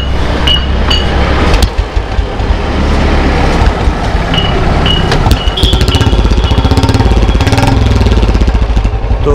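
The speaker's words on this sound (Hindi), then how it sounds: "तो एक बार बाइक स्टार्ट करते हैं बुल्ट को।" Royal Enfield Bullet Standard 350 motorcycle with a single-cylinder engine, heard starting and then settling into a steady rhythmic thumping idle. It is close and loud over a rough, noisy background.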